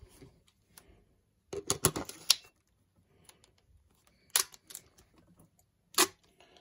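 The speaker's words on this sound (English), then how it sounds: "Now I check it in my camera" Nikon camera fitted with a lens carrying a programmed dandelion chip set to 45 mm and f/2.8, giving a burst of quick mechanical clicks and whirs, then two short, sharp shutter-like clicks, close and clear with no talk.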